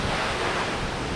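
Water rushes strongly at a waterfall in Batu, Malang, heard as a loud, dense, steady roar with no pauses.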